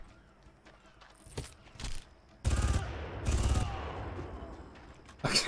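Gunfire in the 2004 shooter Far Cry: a single sharp shot, then two dense bursts of automatic fire about a second apart, each ringing out into a decaying tail, with another burst starting at the end, fairly loud against quiet gaps.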